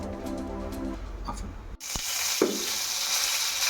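Mustard seeds tossed into heated oil to temper carrot idli; after a short quiet stretch, a sudden bright sizzle bursts up with a pop and holds steady and close.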